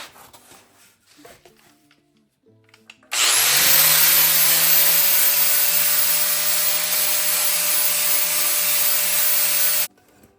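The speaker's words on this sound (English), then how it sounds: "I found a few spot welds by grinding the top layer of paint off." An angle grinder strips paint from a body panel on a 1946 Willys CJ-2A, spinning up to a loud, steady high whine that runs for about seven seconds and then cuts off sharply, with faint handling noises before it.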